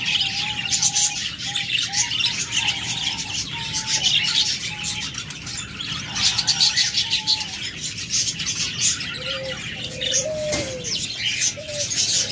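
A pair of lovebirds kept for sale calls repeatedly, giving short chirps and cooing notes at a steady pace over a constant background hiss.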